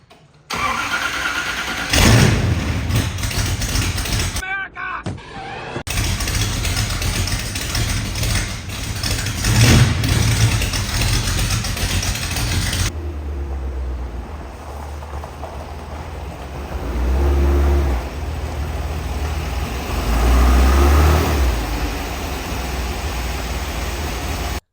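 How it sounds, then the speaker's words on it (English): A dune buggy engine starts and runs in a shop, loud rough revving and idling that swells and dips as it moves, with a brief pause near the start and quieter idle later on. "All right, let's get the Nighthawk moved out of here and get the dune buggy in here."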